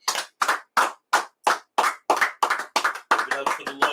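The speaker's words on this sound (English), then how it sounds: "let's clap it up" Sharp, loud hand claps in a steady rhythm, about eleven in a row, close and crisp, picking up slightly toward the end with a faint tonal sound under the last few.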